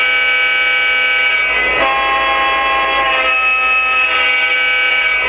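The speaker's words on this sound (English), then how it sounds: "So anyway, here's the horn." The horn of a Lionel Legacy Lehigh Valley RS-11 model locomotive sounds steadily and loudly, a sustained multi-tone blare that holds without pause, with faint mechanical hum beneath.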